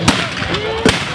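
Two sharp, loud musket shots at a reenactment of the 1813 Battle of Dennewitz, fired under a second apart, with a faint murmur of people in the background.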